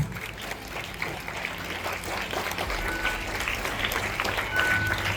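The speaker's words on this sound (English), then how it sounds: "Can we give them a huge round of applause?" Applause from a crowd at a school investiture ceremony, a steady wash of clapping that holds at an even level throughout, with faint crowd noise mixed in.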